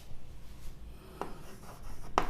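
A hand writes a cubic polynomial's general form during a maths lesson, producing soft scratchy strokes with two sharper taps of the pen or chalk, quiet and close, with no talking.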